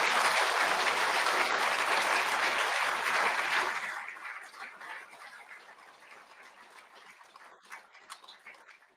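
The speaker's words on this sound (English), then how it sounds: "a big applause" An audience at a cancer research award ceremony breaks into loud, dense applause that holds for about four seconds, then thins to scattered clapping and faint room noise.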